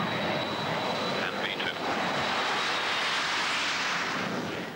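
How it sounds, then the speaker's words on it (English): A BAC One-Eleven airliner takes off with a loud, sustained broadband jet roar and a faint high whine running through it. The roar holds at a steady level throughout, with radio and cockpit voices faintly underneath. "Mirko, though unfamiliar with the big airliner, makes a perfect takeoff."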